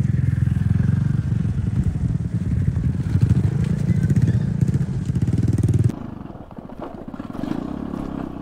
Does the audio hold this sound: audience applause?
no